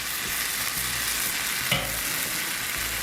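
Gruyere beer cheese sauce bubbles and sizzles steadily in a cast iron skillet while it is stirred around, a continuous close hiss with a brief louder scrape partway through.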